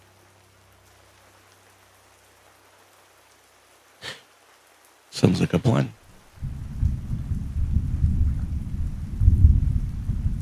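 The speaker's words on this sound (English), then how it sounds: "The storm's not going anywhere." Steady storm rain with rumbling thunder sets in during the second half, loud and continuous after a short burst of speech and a quieter, nearly silent opening.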